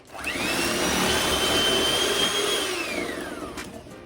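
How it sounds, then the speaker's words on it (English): An electric mixer beats sugar and cream cheese in a bowl, a loud steady motor whine that spins up, holds for several seconds, then winds down. "Now we have to mix it until it is fluffy"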